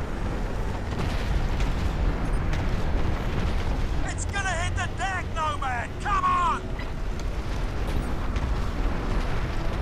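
A nuke detonates in Crysis, producing a heavy, sustained rumbling roar that fills the whole stretch, with a voice briefly speaking over the blast midway.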